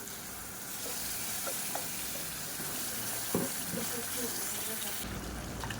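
Ground masala paste sizzling in a pan with sautéed tomato for a quick Tamil-style lunch curry, a steady close frying hiss with a few stirring clinks, and a voice talking over it.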